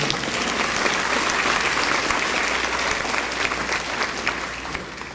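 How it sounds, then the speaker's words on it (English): A crowd at a school ribbon cutting in Tyler, Texas gives the mayor a long round of applause, dense and even clapping that tapers slightly toward the end. "Let's give him another round of applause."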